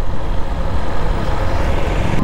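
A motorcycle rides on a road heading from Kathmandu toward Jiri in Dolakha, a loud continuous engine drone and wind rumble close up, steady without pause.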